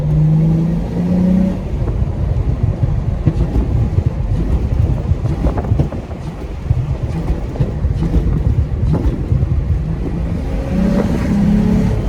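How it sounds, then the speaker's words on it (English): Tuned 2006 Acura TL with a five-speed automatic and a J-pipe exhaust, heard from inside as it drives: a loud, steady low rumble broken by a few sharp pops as the gas is tapped, with no talking. "every time I tap the gas like that, it'll pop"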